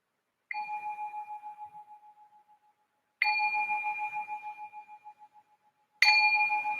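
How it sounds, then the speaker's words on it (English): A meditation bell struck three times at an even pace, each clear metallic ring sustaining and slowly fading before the next strike, heard alone in a quiet room. "I'll just ring the bell to signal the start of our first meditation."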